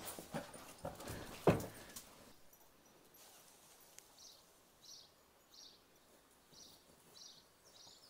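Three dogs in the countryside pant and whimper, with faint, rhythmic breathy pulses repeating every second or so after a few louder close handling thumps near the start.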